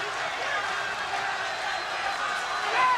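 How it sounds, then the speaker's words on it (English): A boxing crowd roars steadily in support of Alexis Arguello during his fight with Aaron Pryor, a dense, continuous wash of cheering that swells slightly at the end. "Crowd really into this fight, as you can hear."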